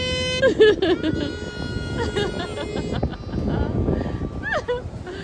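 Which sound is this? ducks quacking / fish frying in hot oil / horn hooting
horn hooting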